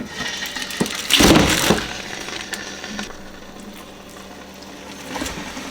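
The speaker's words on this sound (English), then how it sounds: "My chitterlings are frozen. So, we just going to dump." Frozen chitterlings tumble into a cooking pot with a loud splashing, clattering burst, followed by quieter settling and a faint knock near the end.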